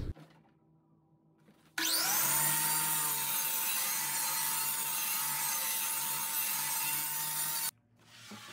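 A bevel saw spins up and cuts through wood trim, a loud, steady whining run of about six seconds that stops abruptly, with quiet room tone before and after.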